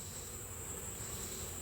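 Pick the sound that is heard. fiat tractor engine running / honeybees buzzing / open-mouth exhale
honeybees buzzing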